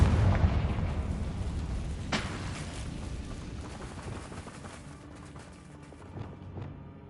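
A Confringo blasting spell goes off in Hogwarts Legacy, opening with a heavy boom and a sharp crack, then a rumbling explosion that slowly fades with scattered debris-like pops.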